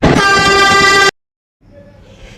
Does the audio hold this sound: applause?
no